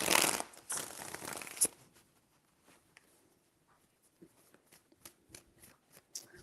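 A deck of tarot cards is shuffled in a dense, crackling riffle for about a second and a half. Scattered soft taps and light handling noises follow in near-quiet.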